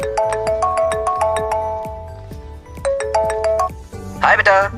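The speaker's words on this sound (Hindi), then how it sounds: "भैया, आपको किसी का फोन आ रहा है।" A melodic phone ringtone repeats its short tune over and over, loud and clear, with a brief burst of voices near the end.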